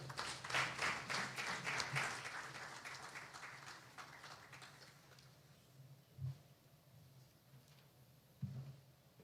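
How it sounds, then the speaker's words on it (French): Audience clapping at a formal French-language official ceremony welcoming a dignitary, fairly loud at first then fading away after a few seconds, leaving quiet room tone with a couple of soft bumps. "sous vos applaudissements, s'il vous plaît"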